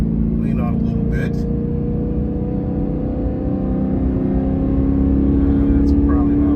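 A BMW E92 M3 with valved exhaust open, accelerating lightly in third gear during a merge: a steady deep engine drone heard from inside the car, sustained and loud throughout, with a voice talking faintly over it.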